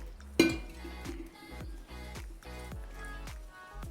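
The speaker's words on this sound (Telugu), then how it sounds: "ఉండలు లేకుండా మొత్తం మంచిగా మిక్స్ చేసేసుకోండి" Wheat flour dosa batter being mixed in a bowl, with a sharp clink at the start followed by a steady series of soft wet stirring strokes and light utensil knocks, close and quiet.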